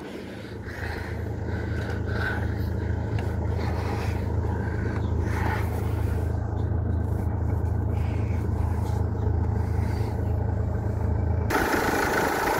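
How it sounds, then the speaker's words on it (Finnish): A car's engine idles steadily and evenly, a close, continuous low rumble that holds throughout without speech, with a dusty used car being presented for auction. "Ihan nätisti moottorit käy."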